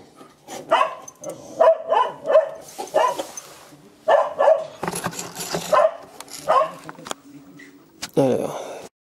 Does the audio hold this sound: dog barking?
yes